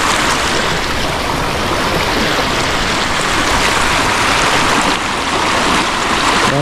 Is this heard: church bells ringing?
no